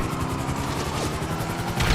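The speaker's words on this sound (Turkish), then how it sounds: "Gel helikopter gel." A helicopter in GTA 5 gives off a loud, continuous rhythmic rotor thump, mixed with rapid bursts that sound like gunfire, and the noise swells slightly at the end.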